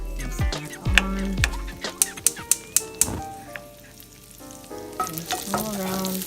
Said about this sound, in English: Now we're going to be putting our butter in, plopping it right there, turning this back on